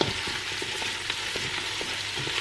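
Onions frying in butter with added vegetable oil in a pot, sizzling steadily close up while a spoon stirs, giving soft scraping taps throughout; no one speaks.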